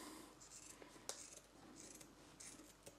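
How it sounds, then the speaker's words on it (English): Quiet snips and crinkles close by, a few sharp clicks of scissors cutting through plastic sausage packaging amid soft rustling. "so I'm going to get some scissors and snip them"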